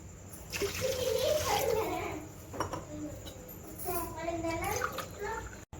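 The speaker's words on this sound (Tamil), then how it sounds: "நான் ஒரு டம்ளருக்கு ரெண்டரை டம்ளர் தண்ணி சேர்த்துக்கிறேன்" Water pours and splashes into a metal pot, with faint voices and light clinks of cookware nearby.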